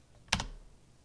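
A computer keyboard is tapped during a Raspberry Pi setup session, two quick close keystrokes in a row, crisp and near, with near-silence around them.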